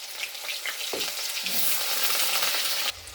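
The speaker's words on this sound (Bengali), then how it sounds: "আলুগুলো আগে ভেজে নিই" Cut potatoes fry in a wok of hot oil that already holds whole cumin, cardamom, cloves, cinnamon and bay leaf. A steady, close sizzle crackles throughout, with a few stirring scrapes and a brief softer drop near the end.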